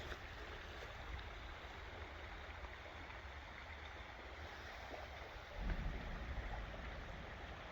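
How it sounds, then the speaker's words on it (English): A stream flows in a continuous, even rush close by, swelling slightly louder toward the end. "Oh, that water sounds good,"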